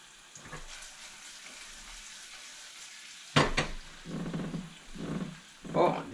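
Vegetables sizzle in a pan on the stove, a soft, hissing fry that swells in short bursts with quiet stirring. A voice is heard over part of it.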